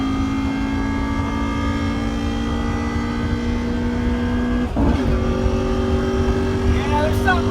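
A car with a bad motor mount drives with a steady loud engine drone and something moving underneath, a brief knock or lurch breaking the tone midway, while people talk over it.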